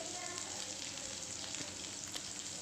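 Small shallots, garlic cloves and dried red chillies sautéing lightly in a pan for chutney, a steady close sizzle of frying oil running throughout with no talking.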